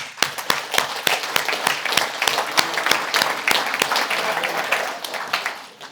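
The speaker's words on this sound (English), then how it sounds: "Give them a round of applause." An audience at a regional event breaks into loud applause, a dense mass of clapping with sharp individual claps standing out, easing off and fading toward the end.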